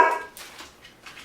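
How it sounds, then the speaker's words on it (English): A dog gives one loud, close bark right at the start, followed by a few faint, muffled yips and rustles in an indoor home setting. "She always seems like she likes to bark when I'm videotaping."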